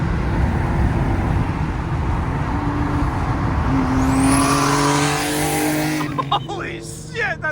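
A loud 2014 Mustang revs and roars past on a scenic highway, the engine note climbing and sweeping by close up, then giving way to a voice reacting at the end.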